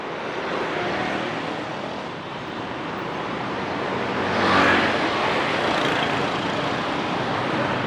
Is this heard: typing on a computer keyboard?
no